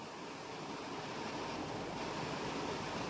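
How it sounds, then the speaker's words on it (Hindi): Salted water at a full boil in a pot on a gas stove gives off a steady, even hiss and bubbling roar up close, unbroken and without any talking. "ये हमारा पानी गरम हो चुका है, अच्छे से बॉईल हो गया है।"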